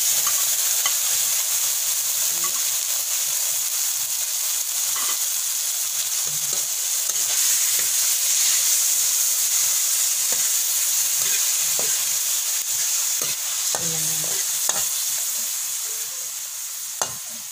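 Marinated pork sizzles steadily as it browns in a hot pan, with occasional scraping stirs and clinks breaking through the constant frying hiss.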